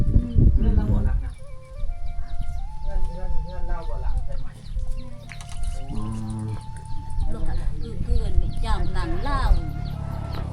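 Chickens cluck and call repeatedly in a rural southern Laos village, their tonal clucks close and clear, while someone talks intermittently alongside them.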